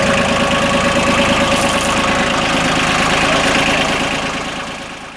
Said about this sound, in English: This is a 1989 Yanmar 2220D.